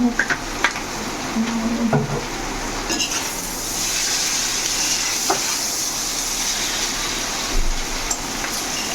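Chowmein with beans and egg frying in a pan: a steady, fairly loud hiss and sizzle throughout, with occasional clicks from a spatula or pan.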